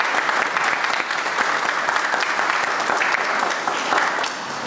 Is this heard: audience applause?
yes